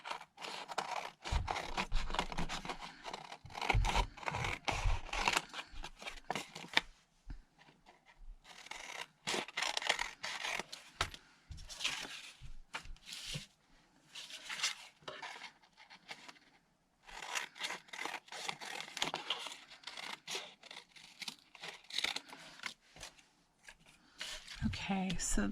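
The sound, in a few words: trimming a zipper tag for a craft project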